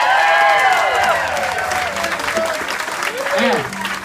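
Audience applause for Willie K at the Waikoloa Ukulele Festival in Hawaii, a dense, steady crowd clapping that fills the whole stretch, with some cheering and a voice speaking over it.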